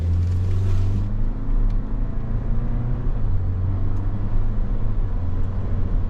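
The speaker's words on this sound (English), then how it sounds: "Now we're feathering in the gas because this is a brand new engine." A brand-new 2024 Toyota Land Cruiser accelerates gently down the road, a loud, steady low engine drone with a rising hum and road rumble from inside the cabin.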